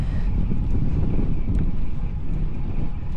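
Wind roars steadily across the microphone during a windy bicycle ride, a dense, loud low-frequency buffeting with faint clicks and no talking.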